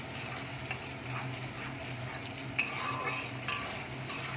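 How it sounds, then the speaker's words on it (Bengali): Spice masala for koi fish curry fried in oil with a little water, producing a steady close sizzle with soft stirring scrapes and a few sharper spoon clicks against the pan. "মশলাটা একটু ভালো করে কষিয়ে নেব।"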